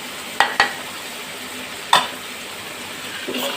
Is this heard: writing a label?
no